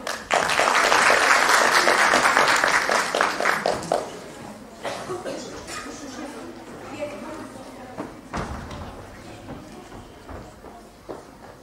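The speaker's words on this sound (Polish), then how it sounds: "Brawa!" Audience applause at a Christmas carol and pastoral song festival: loud, dense clapping for about four seconds that fades into scattered claps, shuffling and footsteps in a hall.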